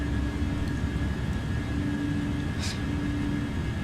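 An Airbus A319 airliner in Microsoft Flight Simulator 2020 gives a steady, loud engine rumble with a constant whine, joined by one brief higher burst near the end; no voices are heard.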